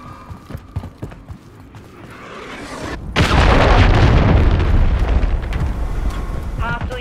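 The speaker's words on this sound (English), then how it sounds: "Hostile cruise missile incoming." A cruise missile detonates in Call of Duty: scattered footsteps and small thumps give way to a sudden heavy blast that roars and rumbles for several seconds before tailing off.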